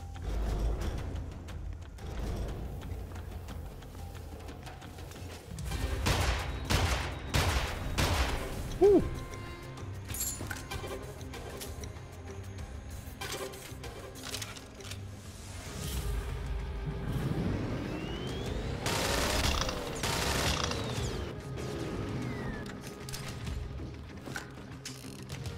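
A Gatling gun fires in Immortal Redneck on the Switch, heard as sustained mechanical bursts and rattling mixed with other game noise at a moderate level.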